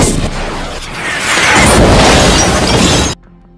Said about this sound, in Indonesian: sebuah pasukan tiba-tiba menembakkan misil ke arah mereka